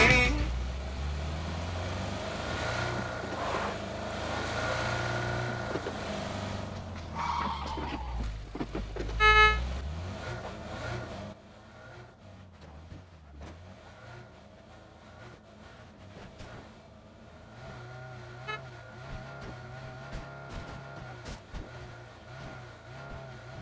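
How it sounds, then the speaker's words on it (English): A car engine in the PUBG battle royale game revs loudly and close for the first several seconds, then drops to a quieter, steadier drive with occasional bumps and skids. "Here comes the car."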